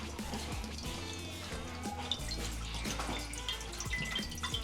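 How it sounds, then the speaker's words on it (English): Spring water poured into a cooking pot to boil for dumpling soup, a continuous close splashing and trickling stream with bright drips over a low hum. "So first I'm going to add the water here for our dumplings, some spring water,"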